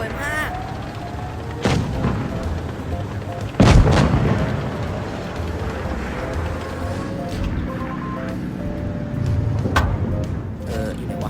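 A T110E3 tank cannon fires once in World of Tanks, a single heavy boom with a rumbling tail, alongside smaller shots and engine rumble from the game. A player talks over the action.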